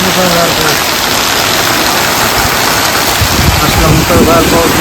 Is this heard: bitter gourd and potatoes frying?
no